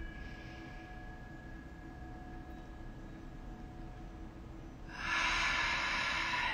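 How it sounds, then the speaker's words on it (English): Deep breath drawn in during a guided meditation: near silence, then a sudden close, airy inhale that swells and is sustained to the end, with no talking. "take a nice deep breath and hold it at the top"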